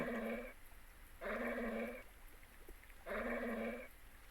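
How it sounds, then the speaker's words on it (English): A dog in the Broken Sword adventure game gives three loud, drawn-out barks, evenly spaced with short quiet gaps between them, and no voices alongside. "That dog sounds insane."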